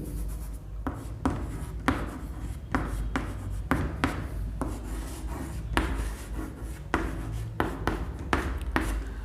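Chalk or marker writes a chemistry formula for an aqueous sugar solution on a classroom board, making a run of quick, close scratchy strokes with short pauses between them and no talking.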